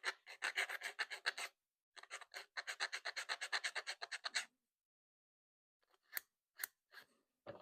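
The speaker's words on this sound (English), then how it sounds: "Coming in with your sander." Rapid rhythmic rasping strokes of a sander on leather for a cast iron skillet cover, in two long bursts, then a pause and a few isolated scrapes.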